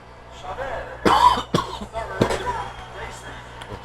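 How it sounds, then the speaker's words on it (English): A man coughs a few times in short, sharp bursts, with a throat clear between them, close to the microphone. "I feel like I've got a lot more coughs going on"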